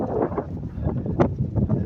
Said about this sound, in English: you can see it's still like super windy out here